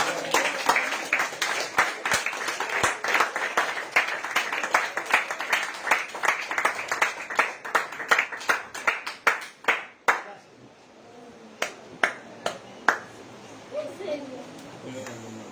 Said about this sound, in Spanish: Dele aplausos al Señor.